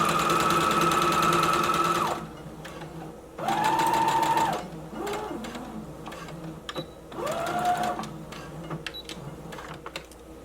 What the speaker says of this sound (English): I'm going to lower my needle, begin sewing, back stitch